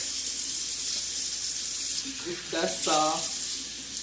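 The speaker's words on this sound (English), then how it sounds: "I'm gonna wash my hands because when I deal with meat, I'm a wash hand freak." Hands are washed under a running kitchen tap with a steady hiss of water, and a voice speaks briefly partway through.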